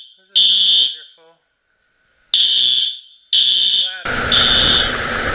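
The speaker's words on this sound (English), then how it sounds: "the fire alarm's going off" A fire alarm goes off in a care center, sounding shrill, piercing beeps in loud bursts separated by gaps, with rougher noise mixed in near the end.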